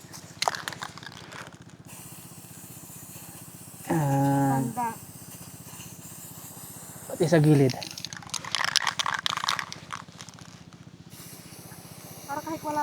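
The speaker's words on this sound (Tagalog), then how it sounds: "I-spray na po natin." Bursts of hissing spray paint marking the ground during a land survey, a couple of short blasts among outdoor noise, with people talking nearby between them.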